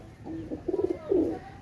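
A male Imamdin pigeon, a Pakistani breed, gives a short run of low throaty coos close by, a pulsing burst followed by a longer rolling coo, with no talk over it.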